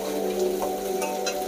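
Chopped onions frying in a pan for canteen-style ghugni give off a steady, close, even sizzle with no break, and no one speaks over it.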